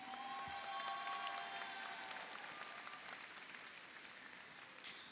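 Sustained applause from a large audience at a 2022 Del Norte High School graduation ceremony, steady and dense throughout and slowly thinning, with a few cheers rising over the clapping.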